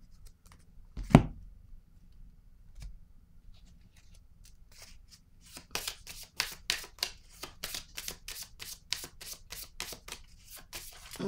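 A tarot card is laid down once near the start, a short soft tap, and a series of quick papery card shuffles and riffles follows from about six seconds on, close and fairly quiet.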